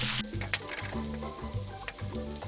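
A Visayan Ginamay dish with a little meat and onion cooking in a pan gives a steady, close sizzle and crackle that runs throughout.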